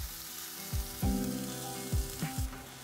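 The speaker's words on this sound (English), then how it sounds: "Saute for 2 to 3 minutes." Garlic, ginger and green onions sizzle gently in avocado oil in a non-stick pan over medium heat, a quiet crackling fry punctuated by several soft thuds of stirring, with no speech.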